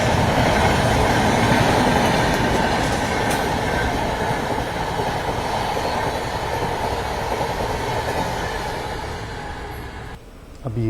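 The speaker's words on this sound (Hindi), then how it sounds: "और ये मुझे विक्रमशिला एक्सप्रेस लग रही है।" Vikramshila Express passenger train running along the main railway line, a loud, steady rumble and rattle of wagons close by that carries on throughout before fading slightly at the end.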